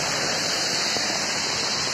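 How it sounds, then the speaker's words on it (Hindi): Heavy rain pours onto a road in DLF Phase 4, a steady, dense hiss of water falling close by for the whole stretch, with no voices over it. "आप देख सकते हो कितना तेज बारिश हो रहा है"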